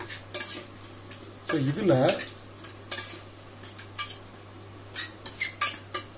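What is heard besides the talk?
stirring paneer tomato curry masala in a pan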